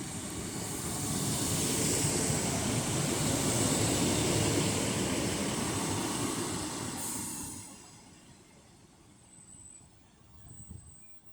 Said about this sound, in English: coming in will be a single Class 156 running from Rochdale to Blackburn via Bolton